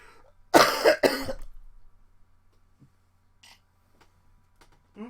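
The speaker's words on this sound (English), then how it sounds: "I swear I'm getting over a cough" A person getting over a cough lets out a few loud, close, phlegmy coughs in quick succession, then only faint small sounds follow in a quiet room.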